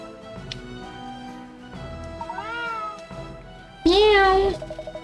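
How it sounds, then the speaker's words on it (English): Cat meowing in Layton's Mystery Journey video game: a couple of soft mews early, then a loud, drawn-out, piercing meow near the end, with game music in the background. "Meow. That's it. Pierce my eardrums, why don't you?"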